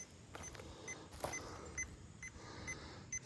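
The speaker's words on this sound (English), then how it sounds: "I don't know why it's beeping all of a sudden" A moisture meter used to test firewood beeps repeatedly, giving short, faint, evenly spaced electronic beeps over quiet outdoor background noise.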